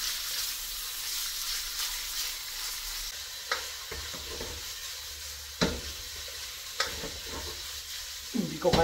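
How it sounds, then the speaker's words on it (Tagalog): Pork filling for vegetable spring rolls fries in oil in a pan with a steady soft sizzle. Sharp scraping clacks of a spatula stirring it break in at intervals, close by. "Medyo na piprito na siya, natutusta na."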